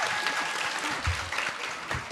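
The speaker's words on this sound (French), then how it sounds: "On peut les applaudir." A studio audience at a live podcast finale applauds steadily, a dense wash of clapping throughout with faint voices and cheers mixed underneath.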